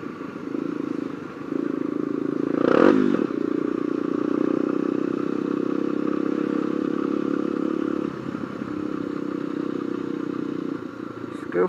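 A motorcycle rides through traffic on the BR-116 highway, its engine a steady close drone throughout, with a passing clatter near the third second and people talking over it.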